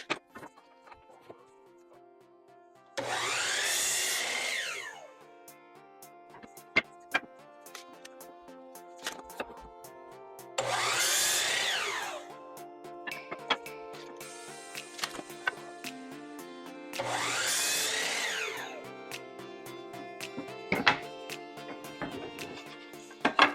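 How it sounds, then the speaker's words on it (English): A chop saw cuts through poplar wood for closet shelf supports in three separate passes, each a loud roughly two-second whine and bite, separated by quieter pauses with light handling clatter. "So we're going to start cutting it on this chop saw right behind me here."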